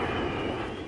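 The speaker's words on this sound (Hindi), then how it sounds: "उड़ते सूर्य किरण विमानों की गर्जना से बेंगलुरु का आसमान गूंज रहा है।" Surya Kiran aerobatic jets of the Indian Air Force roar overhead above Bengaluru during an air show display, a loud continuous engine rumble with no voices.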